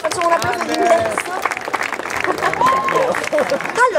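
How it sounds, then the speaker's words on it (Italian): Audience applause and crowd noise at the Leto Comics 2015 cosplay contest, mixed with lively voices and cheering over the stage sound, fairly loud and uneven. "Fate un applauso, applauso d'ingresso."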